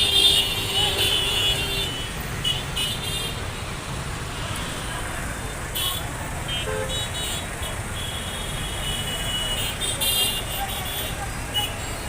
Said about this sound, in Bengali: এটা দেখলে মনে হবে ঢাকার যে কোনো একটি ব্যস্ততম রাস্তা